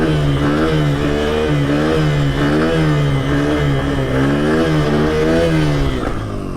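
A dirt bike engine revs steadily while the rider pulls wheelies, a loud, close, continuous drone with regular rises and dips in pitch.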